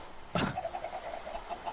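Chickens in a Minecraft-style video game give a single sharp cluck followed by a soft, rapid run of quieter clucking notes, faint and close over a low background.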